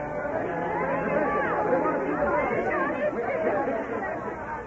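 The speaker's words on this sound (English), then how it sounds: "angry voices echoed against the hills" Angry crowd voices in a radio drama, a dense continuous babble of many overlapping voices at steady moderate loudness, restless and agitated throughout.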